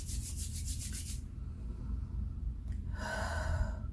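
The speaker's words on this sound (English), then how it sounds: "So completely saturate my hand, rub them together" Hands saturated with a homemade energy-clearing spray are rubbed together, giving a close, steady rhythmic rubbing hiss at first, then a breathy swishing texture until the end, with no talking.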